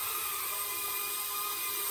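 A cheap mini drone's propellers spinning after repair, a steady high-pitched whine with constant tonal hum, close and continuous throughout.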